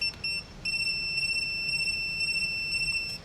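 A high-pitched electronic beep from a non-contact voltage tester sounds continuously, with a few brief interruptions at the start, then holds steady and piercing for several seconds.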